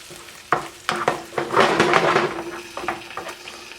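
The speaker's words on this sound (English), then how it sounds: "I'm going to stir it all up so everything's covered" Pork pad thai is stirred with sauce in a hot pan, the utensil scraping and clattering in several distinct strokes over a continuous close sizzle.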